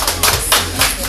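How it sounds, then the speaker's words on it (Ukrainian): Audience applause for an actress at a rooftop dawn performance event, bursts of clapping rising and falling over a short stretch, fairly loud and close. "поэтому тоже актрисе аплодисменты"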